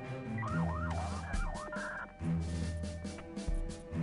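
Fire engines arriving in the game Fire Department 3 at a building collapse in Paris, their wailing sirens rising and falling over a rumbling engine drone and scattered clanks, fairly close.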